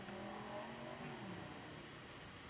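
Loud, steady roar of cars passing close by, a continuous rumbling engine and road noise with no talking.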